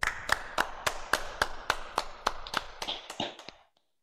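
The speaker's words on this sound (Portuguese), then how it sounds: "Uma salva de palmas, então, ao Dr." About a dozen sharp, evenly spaced claps ring out at a medical award ceremony, fairly close, then stop abruptly into silence.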